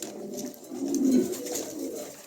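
A pair of Danish pigeons coo softly in a low, rolling burble that swells and fades over a couple of seconds, close and fairly quiet with no talking.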